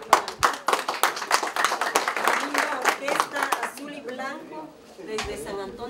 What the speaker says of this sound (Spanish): Un fuerte aplauso para la linda orquesta azul y blanco